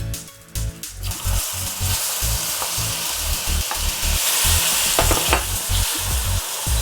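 Bananas sizzle and fry in bubbling toffee for banoffee, with a steady loud hiss broken by repeated scraping stirs of a utensil against the pan, close up and without talk.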